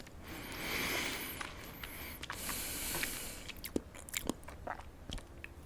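Gum is chewed close to the mic in an ASMR setting. Soft, wet smacks and crunchy bites come in an irregular rhythm, with a brief hissy breath early on.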